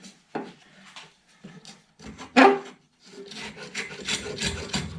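Wooden guitar sides are being sanded with short, scratchy rubbing strokes in uneven bursts, close and moderately loud, the last strokes longer and brighter.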